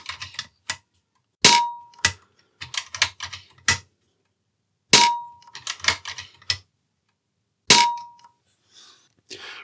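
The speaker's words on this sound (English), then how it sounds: "I will give you a couple dry fires of the rifle so you can hear the before" An AGT Uragan 2 air rifle dry-fired several times, each shot a sharp metallic clack with a ringing ping, followed by quieter clicks of the action between shots in a quiet room.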